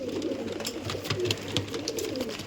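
A Pakistani pigeon of the Chotiyal breed coos softly up close, a low rolling murmur repeated in short pulses, with light handling and rustling noises nearby.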